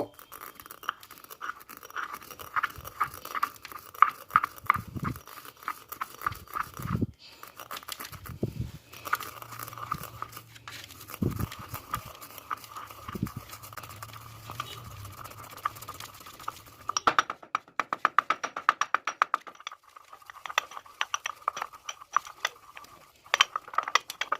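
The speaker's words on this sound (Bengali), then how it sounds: "এবারে সর্ষে দানাগুলিকেও একইভাবে বেশ ভালো করে গুঁড়ো করে নেব" Black mustard seeds being ground to powder in a small spice grinder, a rapid rattling, ratchet-like whirr that starts and stops in short bursts, then runs steadily toward the end, close and fairly loud with no talk.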